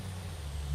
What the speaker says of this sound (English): I like the way this truck sounds.